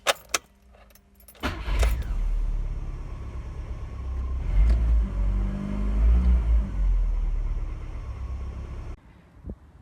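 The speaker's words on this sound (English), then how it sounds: "so allow me to back the car up the garage" A classic car backs out of a garage: keys jingle and a door clunks, then the engine turns over and idles with a low steady rumble, rising slightly as it reverses nearby before cutting off.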